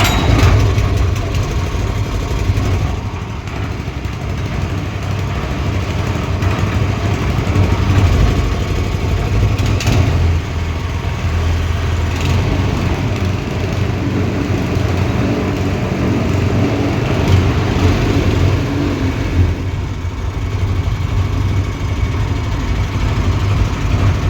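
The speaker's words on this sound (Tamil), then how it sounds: "இப்போது பெட்ரோல் ஊற்றியாச்சு, ஆயில் ஊற்றியாச்சு, சுவிட்ச் ஆன் பண்ணியாச்சு, சோக் ஆன் பண்ணியாச்சு, பெட்ரோல் ஆன் பண்ணியாச்சு." A small petrol engine with its choke on runs steadily at idle throughout, a continuous low mechanical drone that stays loud and close with no voices over it.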